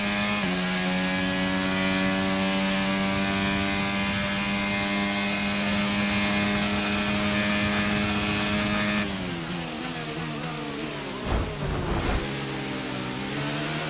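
A Formula 1 car engine screaming under acceleration in the F1 23 racing game, a sustained high-pitched whine held steady for several seconds before a gear change drops the pitch, then a brief rough burst near the end.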